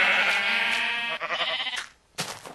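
A Minecraft sheep bleats loudly and close by in a long wavering call, followed by a shorter second bleat after a brief pause.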